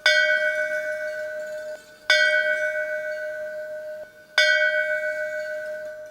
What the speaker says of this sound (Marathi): इथली ही ऐतिहासिक घंटा तुमच्या पुढल्या आयुष्यातील यशाची नांदीच जणू.